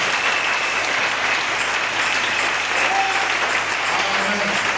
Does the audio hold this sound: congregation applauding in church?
yes